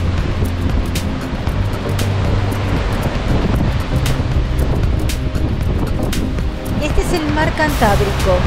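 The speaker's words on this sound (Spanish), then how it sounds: "hoy es un día de mucho viento" Strong wind buffets the microphone in a steady, roaring wash on the shore of the Cantabrian Sea where the Sella river meets it in Asturias, with rough surf blended in and a voice speaking over it.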